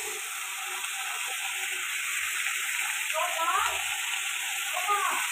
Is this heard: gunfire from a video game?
no